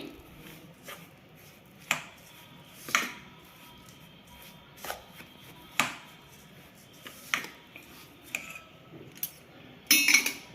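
Ground oats and jaggery mixed with ghee into a laddu mixture in a bowl, giving scattered sharp spoon-on-bowl clinks and scrapes at an irregular pace, close and fairly quiet, with no talking.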